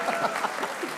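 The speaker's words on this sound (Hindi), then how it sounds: "जोर से तालियां बजाया करो बेटा" Applause from a live comedy show audience greeting a guest, a dense steady patter of claps lasting about a second with a faint murmur in the room.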